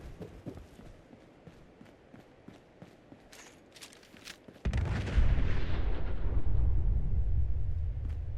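Gunfire in the video game Fallout 4 comes as a spatter of sharp shots, then a heavy, sustained roar of loud artillery-like blasts rumbles on through the second half.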